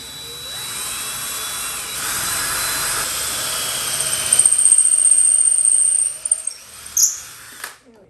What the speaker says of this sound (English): I'm gonna just try and run the drill through this hole one more time